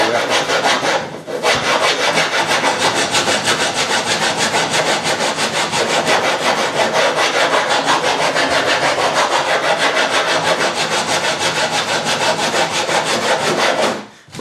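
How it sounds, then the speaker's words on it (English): A hand rasp files steadily across wood, producing a loud, continuous scraping rasp with a rapid stroke rhythm, close by, with a brief pause near the start and no speech. "break out the old hand rasp"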